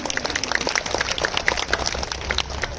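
An audience at a school annual day celebration applauding students, with dense, continuous clapping from many hands throughout the short clip.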